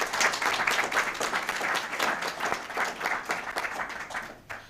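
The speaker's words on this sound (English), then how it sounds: "let's give April another round of applause" School board meeting audience giving a round of applause, continuous crowd clapping at moderate loudness that runs for several seconds and fades slightly at the end.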